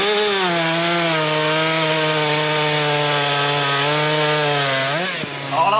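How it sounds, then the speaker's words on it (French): A stock production chainsaw roars at a steady high pitch as it cuts through a wooden log at a timber festival in Sainte-Christine, France, loud and close, the engine dipping briefly near the end. "Alors là, on travaille sur de la tronçonneuse de série"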